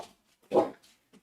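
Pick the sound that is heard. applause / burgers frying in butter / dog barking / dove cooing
dog barking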